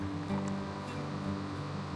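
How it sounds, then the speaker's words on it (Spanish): A river in Chiloé, Chile, where people fish for peladillas and trout, rushes in a steady broadband wash of flowing water, continuous and fairly close, with a low rumble underneath and no talking. "Bueno, este el río."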